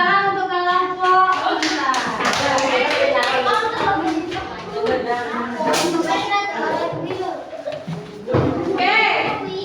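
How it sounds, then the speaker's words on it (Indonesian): Schoolchildren in a classroom clap for a group of classmates, scattered bursts of hand claps mixed with lively children's voices and chatter throughout. "Oke, tepuk tangan untuk kelompok."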